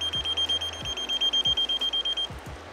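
A King Song electric unicycle wheel gives off a fast run of short, sharp electronic beeps, loud and close, with no other sound behind them.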